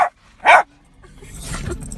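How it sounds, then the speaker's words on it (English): Puppies bark in two sharp, loud yips close by, followed by a softer rustling, whimpering tail. "You see those puppy dogs?"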